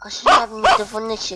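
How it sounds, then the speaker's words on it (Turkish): Two quick barks from a dog nearby, with a person talking over and after them. "Bu köpek sesini bulmalıyız."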